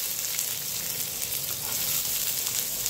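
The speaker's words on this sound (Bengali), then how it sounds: "এবারে আমি দিয়ে দিচ্ছি একটা বড় সাইজের পেঁয়াজ কুচি।" A large chopped onion sizzles in hot oil that was tempered with a cracked dried red chilli, producing a steady, dense, close frying hiss that carries without a break.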